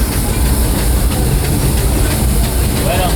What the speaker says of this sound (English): those mining trains and turned them into the wildest ride in the wilderness